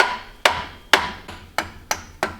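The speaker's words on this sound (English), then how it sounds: "Hand me a whacker device. We'll tap that down in there." A hand whacker taps a part down into place, five or six sharp metallic blows in an uneven rhythm, each ringing briefly before the next strike, close and fairly loud with no talk.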